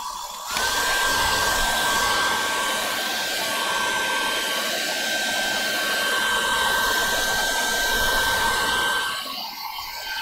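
A duck-shaped hair dryer blows steadily for about nine seconds, a loud, constant airy rush with a thin whine riding on top, starting abruptly and cutting off near the end.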